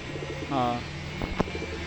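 A pigeon coos softly once over a low background hum, followed by a brief sharp tap.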